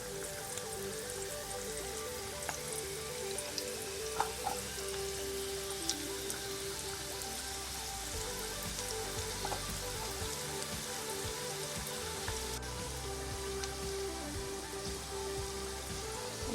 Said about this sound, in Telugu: దాన్ని ఇట్లా ఆయిల్లో వేసేసుకుందాము.